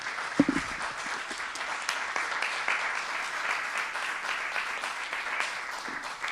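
An audience at a college talk on real estate sales bursts into sustained applause, a dense wash of many hands clapping steadily for several seconds.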